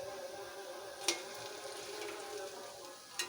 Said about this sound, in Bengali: দেখো আমি কড়াইতে বড়াগুলো দিয়ে দিয়েছি, এটাকে আমি ভাজবো।